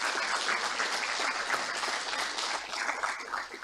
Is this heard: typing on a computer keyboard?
no